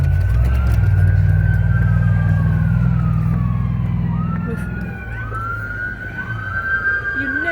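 Police sirens wail during a pursuit in a quiet dead-end neighbourhood, a rising and falling tone heard at some distance over a low steady engine rumble and background noise, with no talk.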